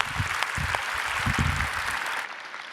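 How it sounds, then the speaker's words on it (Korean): Congregation applause during a Friday evening service at a Korean church, a full, even patter of many hands clapping that continues steadily, with some low murmuring underneath, and fades in the last moment. "박수해 주시기 바랍니다."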